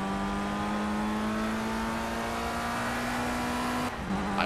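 Race car engine in the Project CARS video game holding a steady, loud drone with a sustained tone, shifting near the end with a brief tire-like screech, no talking.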